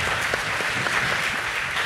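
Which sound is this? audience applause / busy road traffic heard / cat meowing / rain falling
audience applause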